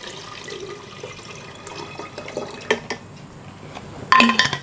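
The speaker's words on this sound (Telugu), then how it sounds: "నేను వాటర్ అయితే ఫిల్ చేస్తున్నాను చూడండి" Water pours into an electric kettle while it is filled with about one litre, a steady splashing fill that grows louder and brighter near the end, with no voices.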